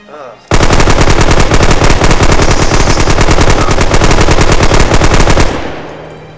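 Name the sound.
MG34 machine gun firing in video game Red Orchestra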